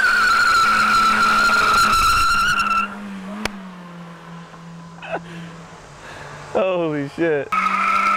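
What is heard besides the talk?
car doing a burnout, tires skidding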